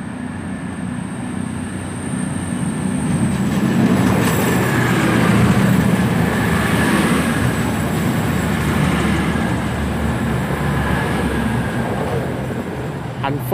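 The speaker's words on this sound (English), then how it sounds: "Right, departing out now, 6 minutes later, is the 1340 service to Manchester Piccadilly from Bournemouth." A Class 220 diesel passenger train pulls out of Oxford station. Its engine rumble and wheel noise build to a steady, loud roar, with a high rail whine running over it for the whole stretch.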